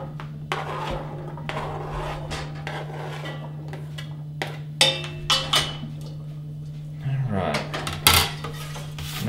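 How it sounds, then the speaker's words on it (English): Carrots tipped into an oiled pan for spinach and carrot soup, heard as a scatter of clattering knocks and scrapes against the pan over a steady low hum, with a few louder bumps near the end. "I will go ahead and dump the carrots into the pan"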